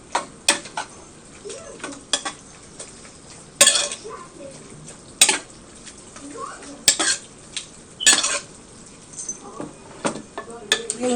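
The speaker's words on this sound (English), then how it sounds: "you're going to add it to your pasta. You're going to stir it up and combine it really well." Pasta being stirred together with canned Rotel in a pot, giving irregular clinks and scrapes of a utensil against the pot with short sharp knocks, close and moderately loud, with some talk mixed in.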